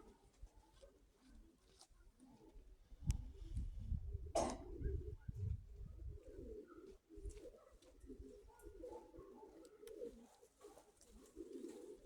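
Pigeons cooing softly at dusk, a low murmuring coo repeated over faint outdoor background, with one brief sharp noise partway through.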